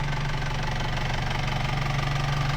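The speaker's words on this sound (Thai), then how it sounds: "เสียงเครื่องเพราะมากเลย ฟังเสียงเครื่องกันอีกรอบนึงเสียงเครื่องดีมาก" A 1994 Isuzu TFR pickup idles close by with an even, rhythmic diesel-like knock and a steady low drone, with no voices over it.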